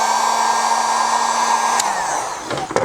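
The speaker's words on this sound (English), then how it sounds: "I'm gonna use my heat gun very slightly." Heat gun blowing hot air steadily onto vinyl film over a Toyota Tacoma mirror turn signal, a loud continuous whirring rush with a faint motor whine that eases toward the end, with no talking.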